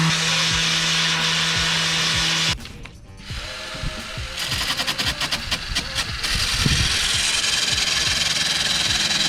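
A power sander grinds into a piece of wood, a loud steady whine that cuts off briefly, then a rattling, ratcheting buzz before the harsh whirring resumes.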